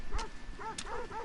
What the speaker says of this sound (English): Stocky's barking.